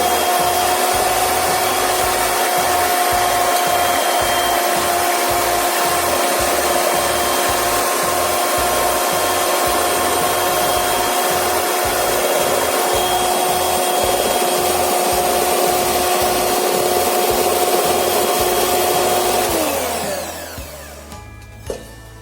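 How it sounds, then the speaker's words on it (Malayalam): Electric blender whirring steadily for about twenty seconds while beating a wheat and jaggery cake batter, a loud continuous hum that cuts off near the end, followed by faint clatter. "ബീറ്റ് ചെയ്യാൻ വേണ്ടിയിട്ട് ഞാൻ ബ്ലെൻഡറാണ് യൂസ് ചെയ്യുന്നത്."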